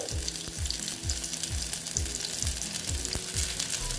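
Ridge gourd pieces fry crisply in hot oil, a constant sizzle broken by regular scraping stirs of a spatula about twice a second.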